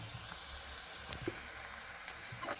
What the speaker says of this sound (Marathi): तेल पण तापलेलं आहे आई जेव्हा टाकते कांदा टाकते लसूण पण टाकलं तिने